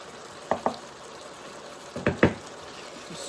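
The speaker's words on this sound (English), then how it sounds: "Stir that in there." Bolognese sauce stirred in a pan, with two pairs of short scraping, sloshing strokes at a moderate distance over a quiet background.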